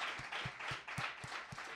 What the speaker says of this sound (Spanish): Un aplauso a España.